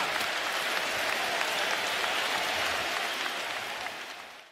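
A basketball arena crowd applauds, a dense, steady wash of clapping filling the space at close range, holding level before tapering off at the end.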